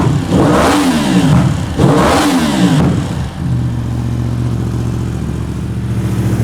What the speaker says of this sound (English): with a little bit of revs, it pops like crazy